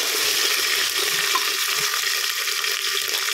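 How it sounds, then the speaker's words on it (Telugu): Ginger garlic paste frying in hot oil for matar pulao, giving a loud, steady, dense sizzle and crackle with no pauses and nobody speaking. "అల్లం వెల్లుల్లి పేస్ట్ అండి ఆయిల్లో బాగా అవ్వాలి"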